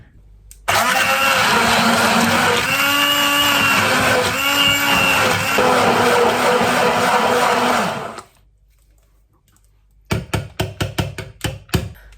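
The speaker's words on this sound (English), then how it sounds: "it says to blend it with a stick blender" A stick blender purées simmered butternut squash soup in a pan, a loud close whirring motor running steadily for several seconds with pitch wobbles, then stopping, followed by a few sharp knocks or taps.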